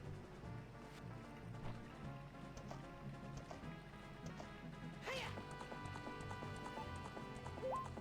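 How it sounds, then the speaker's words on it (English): Rhythmic hoofbeats clatter steadily through a busy game soundscape, with a sharp swooshing effect midway and small chimes toward the end. "Get on the horse."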